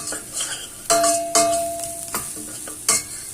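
Garlic and coriander frying in a hot pan, stirred in several sharp scraping strokes, with steady sizzling between them and a faint tonal ring from the pan.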